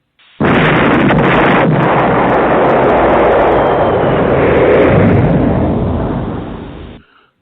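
A bomb explosion sound effect erupts in a loud, sustained roaring blast that holds for several seconds before cutting off abruptly, with no voices over it.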